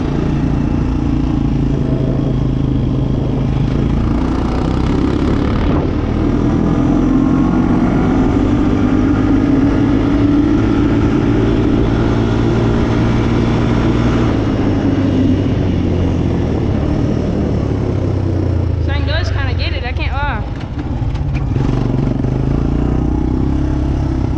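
Engine of a Honda Recon ATV being ridden, a loud continuous drone with shifting pitch as the rider throttles up and eases off, close and steady throughout with a brief clatter near the end.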